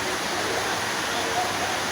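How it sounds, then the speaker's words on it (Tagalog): Steady, soft hiss of light rainfall, continuous and even throughout with no other sounds standing out. "ulan lang naman na hindi naman masyadong malakas"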